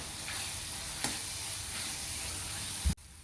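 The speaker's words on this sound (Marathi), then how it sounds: "कांदा पण छान परतून घ्यायचा आहे तेलामध्ये." Finely chopped large onion sizzling in oil, a steady close crackle with a brief spoon-scrape stir, ending in a sudden clunk and near silence.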